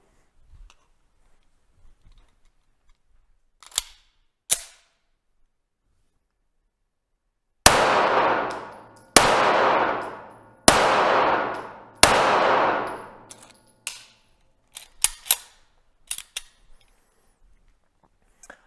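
Pistol shots from a CZ TS 2 at a shooting range: a few sharp cracks, then four loud, closely spaced reports with ringing decay, followed by several quicker lighter shots tapering off.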